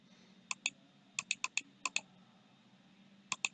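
Someone types a web address on a computer keyboard: a few scattered bursts of sharp, close key clicks, in pairs and short runs with pauses between, in a quiet room.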